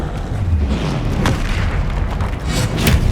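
A blasting spell goes off in Hogwarts Legacy on PS5: loud, deep booming explosions with rumbling bursts that follow one another closely.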